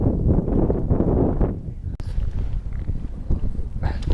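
Wind gusts buffet the microphone beside Big Bear Lake, a heavy rumbling roar that eases after the first couple of seconds and then returns in weaker, uneven puffs, close and loud.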